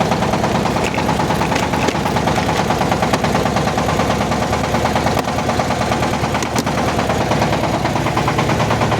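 A Shifeng 354 tractor engine warms up in snowy conditions before ploughing, idling with a steady, loud diesel chug and a regular knocking rhythm throughout, no talk.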